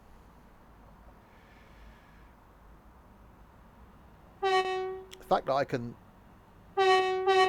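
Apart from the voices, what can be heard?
train horn sounded remotely in Train Sim World 2 video game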